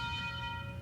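A struck bell rings with a steady, sustained metallic tone, several pure overtones hanging evenly through the short moment, loud and close with no talk over it.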